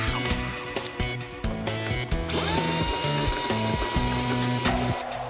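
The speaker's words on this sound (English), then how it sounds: "This is an air-powered motor, and goes a little something like this." The air-powered motor of a robot dog runs in rapid mechanical bursts, clicking and ratcheting close by in a stuttering rhythm with short pauses, and a steadier whirring stretch appears midway.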